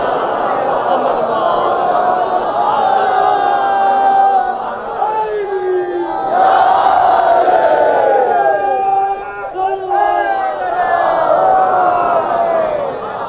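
A crowd at a Shia majlis memorial gathering recites salawat blessings together in a loud, sustained unison chant. The many voices swell and overlap in waves for several seconds, with a brief dip midway.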